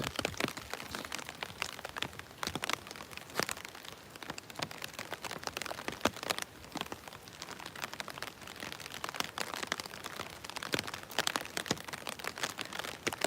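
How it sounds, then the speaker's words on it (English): Raindrops patter on a surface at night in Tokyo among cherry blossoms and boats, quick irregular taps in a light crackling rhythm that continues throughout. "the pitter-patter of the rain is really relaxing"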